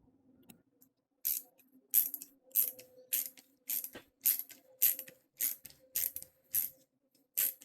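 Ratchet wrench torquing down bolts on a Detroit Series 60 12.7 diesel engine during a Jake brake tune-up, heard as about ten evenly spaced, loud ratcheting strokes after a quiet start.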